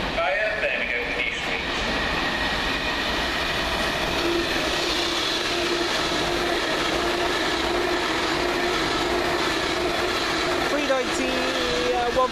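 A Virgin train from London Euston to Glasgow Central pulls into a platform at Crewe station with a steady rumble and rail noise, plus faint squeals. The sound holds throughout, while people talk at times nearby.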